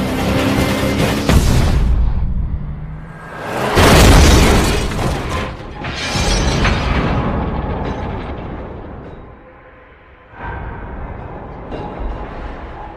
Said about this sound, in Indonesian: Jack mengalami kecelakaan hebat akibat mesin mobilnya nggak kuat lagi untuk digeber hingga mengalami overheat, meledak dan membuatnya hilang kendali